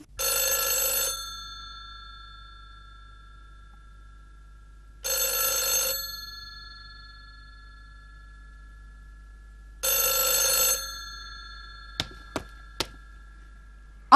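A telephone bell rings in three separate bursts spaced a few seconds apart, followed by a few sharp clicks near the end.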